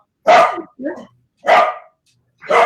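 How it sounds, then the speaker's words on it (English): A pet dog barks at home during a call, giving three loud, close barks with a softer yip between them, with a voice talking faintly around them. "I'm going to kill my dog"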